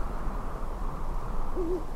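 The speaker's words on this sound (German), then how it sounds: "Das ist aber doch diese Eule, ne?" An owl in the video game Syberia II gives a single soft hoot late in the moment, heard over a steady low ambient hum with no speech.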